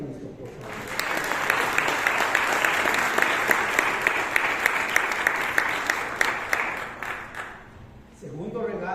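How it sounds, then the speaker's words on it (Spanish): A church congregation bursts into sustained applause during a sermon. The clapping builds, holds for several seconds, then fades as a voice resumes. "Denle un aplauso a Cristo, por favor."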